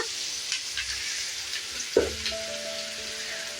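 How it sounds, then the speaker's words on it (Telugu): Cooked rice tumbles into a pan of frying vegetables for chicken fried rice, a steady sizzle with scraping stirs and one sharp metallic clank near the middle, then a faint ringing tone. "ఇప్పుడు ఇందులోకి రైస్ వేసుకుంటున్నా"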